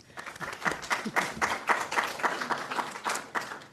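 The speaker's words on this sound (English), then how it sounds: "let's give them a round of applause as well" An audience at an academic conference session applauds steadily, many hands clapping in a dense, even burst that carries on for a few seconds.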